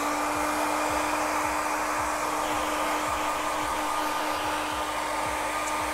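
A hair dryer blowing close up with a steady, loud whooshing hum, used to dry airbrushed fluorescent paint on a softball helmet, running continuously throughout.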